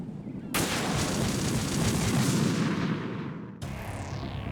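Sniper rifle fire in Metal Gear Solid 2 erupts as a loud, booming shot with a long rumbling tail lasting about three seconds, then a second sharp blast follows close up.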